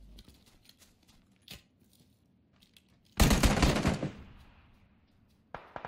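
Gunfire in a video game: a loud, rapid automatic burst of about a second erupts after quiet clicks and rustles, then dies away, with a single shot near the end.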